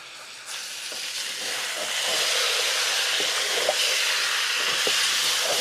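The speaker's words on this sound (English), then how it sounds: "So we'll give it a stir." A pot of chicken vindaloo with yogurt hisses and sizzles loudly and steadily, with a few faint scrapes of stirring under the broad hiss.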